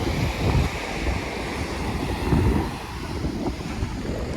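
Sea waves wash against the shore near Ratneshwar temple, a continuous rolling surf with gusty wind buffeting the microphone. No voices are heard.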